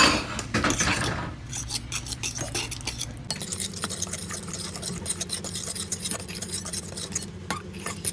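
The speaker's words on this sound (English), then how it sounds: "The eggs into the bananas there. Wow, mix it up." Beaten eggs are mixed into mashed bananas for homemade banana bread, a close, continuous wet scraping and stirring with utensil clinks against the bowl, and no voices.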